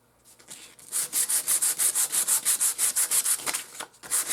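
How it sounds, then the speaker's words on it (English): Sheet of 220 grit sandpaper scrubbed by hand in quick, even back-and-forth strokes, about fifteen rasping passes in close succession, close and fairly loud with no talking. "Some 220 grit sandpaper."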